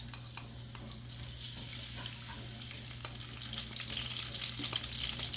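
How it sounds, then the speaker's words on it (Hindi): Half a cup of ghee sizzles steadily in a pan for Chinese-style chicken and vegetable fried rice, a continuous bright crackle with a low hum underneath and no talking. "ये इधर मैंने 1/2 कप घी डाला है।"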